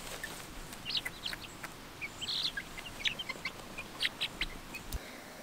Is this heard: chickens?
yes